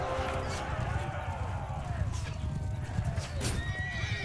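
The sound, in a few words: horse neighing and galloping in Mount and Blade II Bannerlord video game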